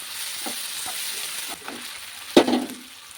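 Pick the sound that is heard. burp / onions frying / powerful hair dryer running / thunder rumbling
onions frying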